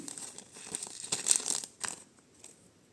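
Faint, close crinkling of a small plastic bag holding a vintage chain, in short rustling bursts, then quieting down.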